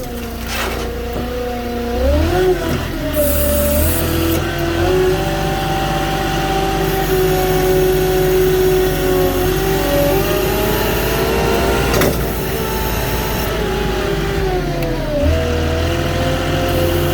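A Moffett truck-mounted forklift labors up a small sandy hill during a flatbed delivery, its engine droning loud and close, rising and revving with load changes over about seventeen seconds.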